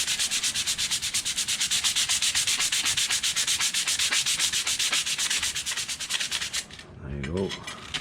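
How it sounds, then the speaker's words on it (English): Edge of a hand-forged horseshoe knife being sanded, a rapid rhythmic scraping rub of even back-and-forth strokes, close and steady, stopping near the end with a brief low murmur. "I just want to try to get my edge nice, and I hope I'm sanding here so people can see this."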